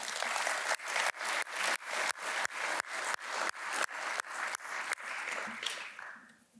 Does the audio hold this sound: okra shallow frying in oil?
no